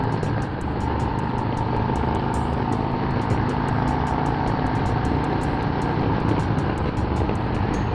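A 2021 Harley-Davidson Road Glide motorcycle cruising on a highway gives a steady, unbroken roar of engine and wind rush that stays loud and even throughout, with no talk.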